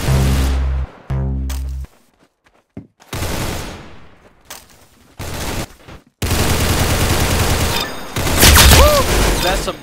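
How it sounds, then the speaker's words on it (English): Gunfire in the video game Arsenal: loud, close bursts of rapid automatic shots and single cracks, broken by short pauses and ending in a sustained heavy barrage. "That's some beautiful shooting right there."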